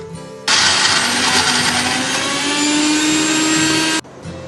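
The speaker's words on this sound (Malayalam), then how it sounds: "വറുത്ത തേങ്ങ ഞാനിപ്പോൾ അരക്കുന്നുണ്ട്." A mixer grinder churns roasted coconut with water for a Kasaragod-style beef curry, starting abruptly and running as one loud, steady, whirring roar for about three and a half seconds before cutting off.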